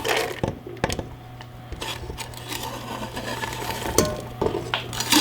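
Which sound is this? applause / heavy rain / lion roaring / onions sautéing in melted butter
onions sautéing in melted butter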